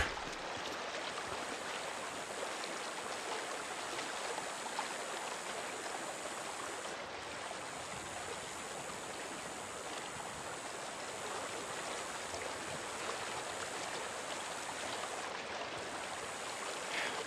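Steady stream water flowing in Days Gone, a constant broadband rush with no pauses, moderately quiet and heard alone without voices.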